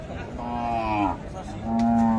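A cow at a cattle market moos twice, long and tonal, the first call falling and the second held steady and loud, with market chatter faintly underneath.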